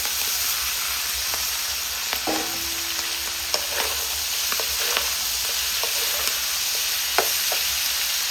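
Snow peas and chili stir-fried in a hot pan, a steady close sizzle of frying with occasional scraping and clinking of the spatula throughout.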